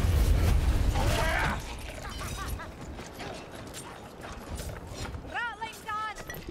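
A Skaven ratling gun spinning up in the video game Warhammer Vermintide, heard as a loud whirring, clattering mechanical rush at the start that fades into ratcheting clicks, with brief squeaky chirps near the end and a voice in the background.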